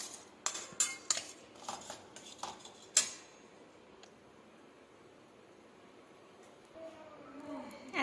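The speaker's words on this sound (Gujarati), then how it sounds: "ઘી ગરમ થઈ ગયું છે, હવે તેમાં આપણે ગોળ ઉમેરીશું। ગોળને આપણે બરાબર મિક્સ કરી લઈશું।" A spoon stirs jaggery into hot ghee in a pan while making peanut and sesame sukhadi. Several sharp metallic clinks and scrapes come in quick succession, then fade to a low sizzle-like hiss.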